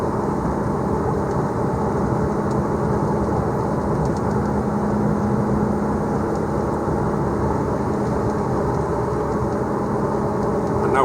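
A car rides over a bridge beside a rising, near-flooding river, with steady interior road and engine rumble, even tire noise and no voices for the whole stretch.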